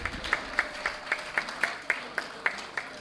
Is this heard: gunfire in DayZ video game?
no